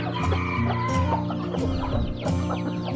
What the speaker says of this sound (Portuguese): Esse aqui é um galo índio gigante.